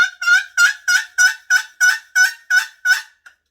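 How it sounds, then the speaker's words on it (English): A turkey box call makes turkey hen yelps: about ten evenly spaced, sharp, close notes in a steady rhythm, then a faint final note, with no talking. "take the box, and do some yelps"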